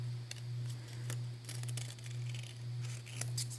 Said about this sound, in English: I have no idea why I grabbed these great big scissors.